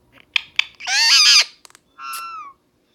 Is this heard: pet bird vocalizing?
yes